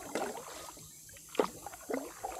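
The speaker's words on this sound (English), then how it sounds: "So I decided to come out and do some paddling early." A TuckTec folding kayak paddled on Cooper Lake, with a few soft, close splashes and drips of the paddle entering the water in an unhurried rhythm over quiet open-air background.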